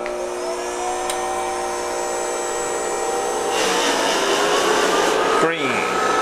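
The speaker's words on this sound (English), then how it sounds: "this polishing motor is so small, that's why I've got to use them" A small jewelry polishing motor runs while platinum is polished, giving a steady, close whine with a bright tonal hum that grows a little louder and busier partway through, with a brief dip near the end.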